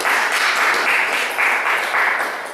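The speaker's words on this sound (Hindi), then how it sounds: "ताली बजा के ईश्वर को धन्यवाद।" A congregation clapping in praise of God during a prayer service, a dense steady burst of many hands applauding together for a couple of seconds, with no voice over it.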